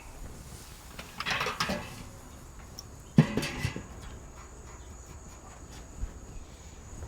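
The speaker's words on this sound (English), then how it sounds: "I am gonna put the lid on it for those 5 minutes" A metal lid clanks onto a Slow 'N Sear kettle grill, with a first rattling contact followed by a sharper clank as it settles, then quiet outdoor background with faint insects.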